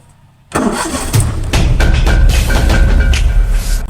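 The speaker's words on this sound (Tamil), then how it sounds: "வண்டி ஸ்டார்ட் ஆயிடுச்சு." A car engine cranks and catches after a quiet moment, then settles into a steady, loud idle close by.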